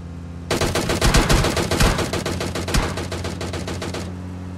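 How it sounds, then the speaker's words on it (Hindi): A long burst of rapid DP-28 machine-gun fire in PUBG, dozens of shots in quick succession for several seconds before cutting off. "मेरे पर डीपी, मतलब DP28 से वो स्प्रे करता है"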